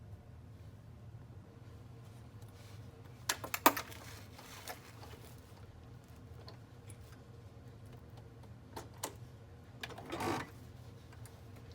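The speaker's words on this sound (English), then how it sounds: "Then you're going to take and you're going to sew a top stitch line 1/8 inch from" Sewing machine stitching a top stitch line 1/8 inch from the fold on a fabric binder pouch: a steady low motor hum runs throughout, with a few scattered clicks and ticks.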